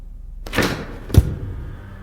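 Door in the horror game Asylum being tried: two dull thuds a moment apart, a rattling push followed by a heavier thump, close and alone.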